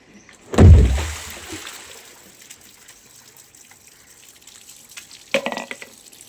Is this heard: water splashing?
yes